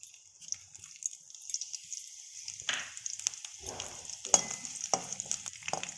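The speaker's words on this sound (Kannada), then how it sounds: "ಇದನ್ನು ಸ್ವಲ್ಪ ಹೊತ್ತು ಫ್ರೈ ಮಾಡ್ಕೋಬೇಕು" Dried chillies, mustard seeds, lentils and curry leaves fry in hot oil for a greens dish, a low crackling sizzle with scattered sharp pops and the occasional scrape of stirring, close and alone.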